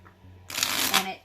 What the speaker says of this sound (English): I really prefer riffle shuffling